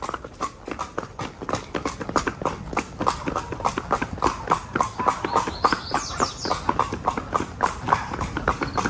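A mare walks along, her hooves clip-clopping in a steady, even rhythm, close and distinct, with occasional faint voices in the background.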